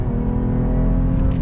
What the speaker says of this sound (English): acceleration test on throttle